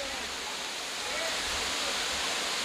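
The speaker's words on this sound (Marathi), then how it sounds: "आता आपण पानवलच्या धबधब्यावर पोचलेलो आहोत" Panval waterfall near Ratnagiri rushes in a broad, steady roar of falling water, close and continuous with no break.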